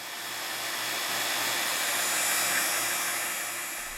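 A vacuum pump runs steadily while degassing a wooden pen blank in a chamber, giving a loud, continuous broadband whoosh with a low hum that swells slightly in the middle and holds on its own without talk.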